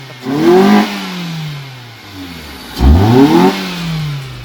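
Car engine fitted with a cold air intake revving hard twice, each rev rising and falling in pitch, close and loud with a quieter idle between.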